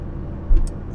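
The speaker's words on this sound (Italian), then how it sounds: "Ascolti il motore, ascolti quello che ha da dirti la macchina." Engine of a third-series Fiat 131 Mirafiori rear-wheel-drive saloon, heard from inside the moving car as a steady low rumble that swells briefly midway.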